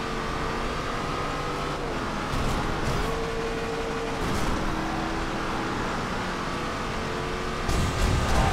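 Racing car in Forza Horizon 2 drifting on the Storm Island course, its engine droning steadily and loud with sustained tonal whine and tire noise, rising in intensity near the end.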